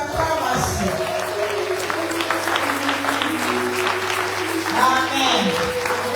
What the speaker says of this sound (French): nous lui demandons de se mettre debout sous nos acclamations.